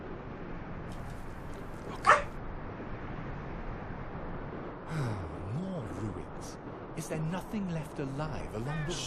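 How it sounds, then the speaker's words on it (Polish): A pet dog barks a single sharp time in a room during a game session, heard once, fairly loud, with someone talking throughout. "pies mi zaczął szczekać"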